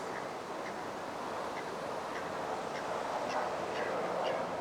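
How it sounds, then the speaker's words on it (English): Scattered duck quacks sound out over a steady outdoor background hum near a river in downtown Jersey City, several short calls spread across the clip, moderately distant. "there's a lot of ducks and geese in this area because it's close by to the river"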